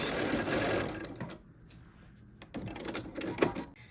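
A sewing machine whirs in a close, steady mechanical burst and pauses briefly. It then runs again in reverse for a backstitch, the needle chatter audible, with no speech over it.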